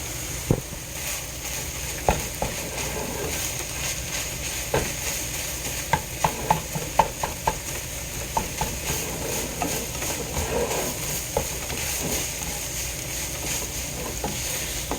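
Seasoned ground beef with garlic frying in a pan and being stirred: a constant close sizzle with irregular scraping and clicking strokes of the utensil against the pan.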